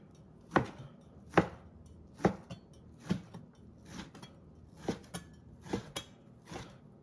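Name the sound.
chopping ginger, onion and Thai chilies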